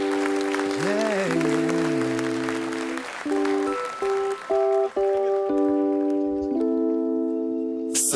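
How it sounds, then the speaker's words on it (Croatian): A studio audience on a Croatian RTL television show applauds to welcome the performers. Steady broadband clapping runs throughout, under loud sustained synth tones and a swooping musical line. "Pozdravite ih velikim pljeskom."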